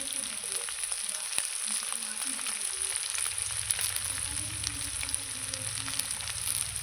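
Onion, ginger and mutton fry in a pan with a steady, close hissing sizzle, constant and unbroken, with a faint low rumble underneath.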